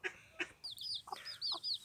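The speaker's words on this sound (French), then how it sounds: "je voulais vous montrer la poule avec ses poussins" A few short clucks from a hen with her chicks, close by, mixed with higher chirping from small birds in quick bursts.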